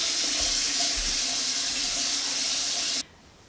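Cold water runs steadily from a faucet into a bathroom sink, a loud, even hiss that stops abruptly near the end, leaving quiet room tone.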